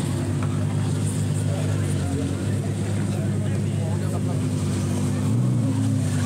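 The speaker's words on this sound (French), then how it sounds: "parce que la circulation, oh, le bruit" Street traffic with supercars nearby: a loud, steady, low engine rumble holds throughout, swelling slightly near the end, while people talk over it.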